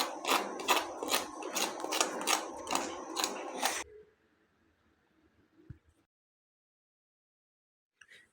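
A crisp toasted street-style sandwich is handled and pressed, giving a rapid run of loud, rhythmic crunchy crackles for about four seconds, then fading to faint rustles and near silence.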